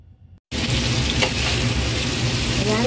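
Beef sizzles loudly in hot cooking oil in a frying pan, a steady crackling fry that starts abruptly after a brief quiet moment and continues unbroken to the end.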